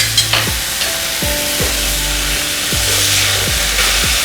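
String beans stir-fried in a pan with a little mustard powder, a steady sizzle broken by repeated scraping strokes of a utensil against the pan, close and fairly loud, with no talking.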